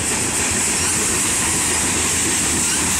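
Canadian National 8806 mixed freight train rolling through Effingham, Illinois, a steady loud roar of wheels and cars with faint clickety-clack and hiss, continuous and close, no voices.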